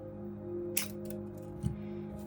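Rosary wire being snipped with a small cutter, two brief clicks close by, one crisp and one duller, over a faint steady hum.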